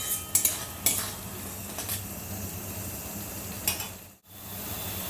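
A spoon stirs desi chicken curry with a whole garlic bulb in a pot, giving a few soft scraping clinks over a faint low sizzle, fairly quiet and close.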